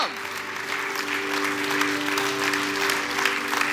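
Church congregation clapping steadily in a large room, a sustained, moderately loud patter of many hands with a faint sustained organ or keyboard tone beneath it.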